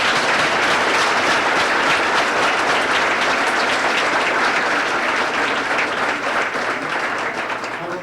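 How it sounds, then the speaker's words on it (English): An audience at a school learning celebration gives the students a long round of applause, dense and steady, then tapers off slightly toward the end. "Let's have one round of applause for all the students who received."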